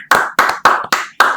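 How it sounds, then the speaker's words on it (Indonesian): Five loud, sharp hand claps close by, evenly spaced about a quarter second apart, at an Indonesian talk-show interview about the modeling world. "Tepuk tangan dulu."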